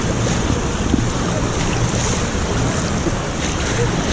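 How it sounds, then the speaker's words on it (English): Waves rolling through the wave pool at Disney's Blizzard Beach water park, a steady broadband rush of churning water heavily mixed with wind buffeting the microphone, constant and loud throughout. "I feel like the waves are slowing down."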